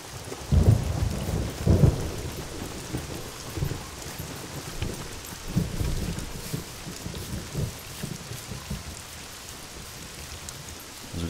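Rain and thunder in the survival video game SCUM: a constant rain hiss with deep rolling thunder rumbles swelling near the start and again in the middle, fading to a quieter downpour.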